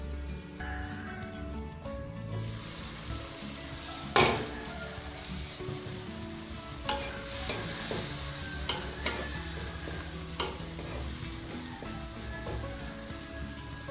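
Broccoli cooking in a covered pan, giving a soft steady sizzle with occasional light clatters and stirring knocks, quiet and without speech.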